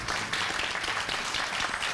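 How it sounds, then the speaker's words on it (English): A brief, moderately faint burst of audience applause at a Peekskill NAACP panel on prosecutorial conduct, steady clapping with no voices over it. "A round of applause."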